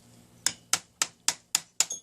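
Hammers on a Suzuki Ace rod kit tap in a steady rhythm, six sharp metallic clicks about a quarter second apart, close and clear over a faint low hum.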